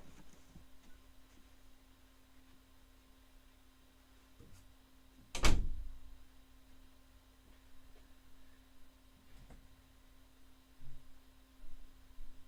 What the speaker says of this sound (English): Just a minute. I'm going to close this door.